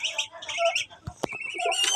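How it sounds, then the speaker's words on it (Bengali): Birds squawk and chirp in repeated harsh, close calls, with a couple of sharp knocks or pecks in the middle, heard without talk. "এদিকে পাখি দেখেন, এই যে একটা পাখি"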